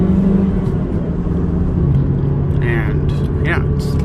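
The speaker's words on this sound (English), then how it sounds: "That's pretty high RPMs right there." A 2019 Honda Civic Sport with a muffler delete runs at high RPM, a close, steady engine drone heard under brief talk.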